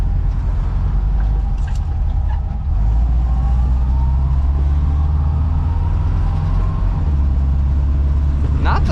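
A 1977 VW Bus drives along with a loud low engine drone and road rumble heard from inside, the engine note dipping briefly during a gear change before pulling again.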